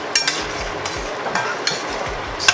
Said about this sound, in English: Saute it a little bit more while it's cooking.